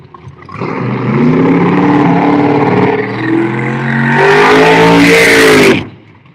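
A race car accelerates hard at a racing track at a testing event, its engine climbing through rising revs, loud and close, then easing briefly before surging higher again and cutting off.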